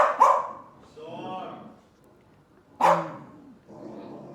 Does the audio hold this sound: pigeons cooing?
no